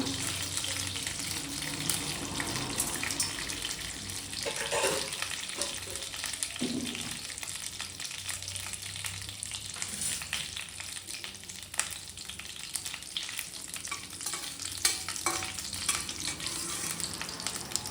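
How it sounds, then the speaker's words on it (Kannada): Chana dal and peanuts fry in a pan while being stirred, with a steady broadband sizzle that runs the whole time and a few brief scraping strokes rising above it. "ಕಡಲೆಬೀಜ ಚೆನ್ನಾಗಿ ಫ್ರೈ ಆಗಿತ್ತು, ಕಡಲೆಬೇಳೆ ಚೆನ್ನಾಗಿ ಫ್ರೈ ಆಗಿ"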